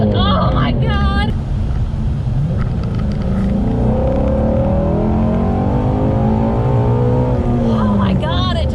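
Ford GT350 or Camaro ZL1 1LE V8 sports car accelerating hard, a loud sustained engine roar rising in pitch from inside the cabin, with excited voices talking and exclaiming over it.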